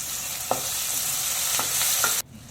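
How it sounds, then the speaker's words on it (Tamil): Tomato, garlic and onion sauté in a hot pan, a loud continuous sizzle with a few sharp scraping stirs, then the frying cuts off abruptly near the end. "இப்போ தக்காளி, பூண்டு, வெங்காயம் எல்லாம் போட்டு நல்லா வதக்கியாச்சு"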